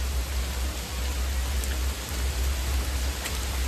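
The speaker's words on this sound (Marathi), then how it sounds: "इकडनं भयंकर असा पाऊस चालू आहे" Heavy rain pours steadily at Morgiri fort near Lonavala, a dense even hiss with a low rumble of wind beneath it, close and continuous.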